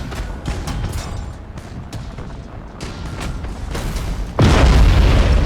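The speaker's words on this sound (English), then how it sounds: "We'll get a broadside here with his starboard guns. Macro cannons." Macro cannons fire a broadside in the space battle game Battlefleet Gothic Armada 2, a rapid series of sharp booms at irregular intervals that ends in a heavier, sustained blast.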